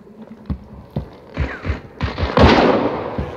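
Several sharp, punchy Vetterli 71 Karabiner gunshots in the video game Hunt: Showdown in quick succession, one blending into a loud burst of noise, close and loud with no voices.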